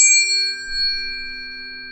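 A tuning fork rings out with a sustained, pure metallic tone that holds steady and decays only slightly, alone and close.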